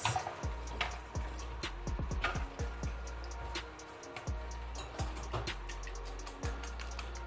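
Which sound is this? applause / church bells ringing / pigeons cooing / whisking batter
whisking batter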